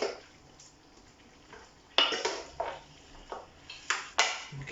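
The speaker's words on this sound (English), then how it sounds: "I'm going to turn all the veggies through the sauce" Vegetables for an aloo gobi curry being turned through sauce in a pan, heard as a few separate clatters and scrapes of utensil against cookware, with quiet gaps between them and no talking.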